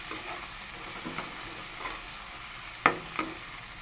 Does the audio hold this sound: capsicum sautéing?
yes